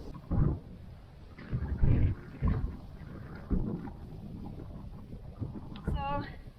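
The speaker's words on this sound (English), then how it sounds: "It's really windy now." Gusty wind buffets the microphone in rumbling low bursts that rise and fall irregularly, with a brief faint squeak near the end.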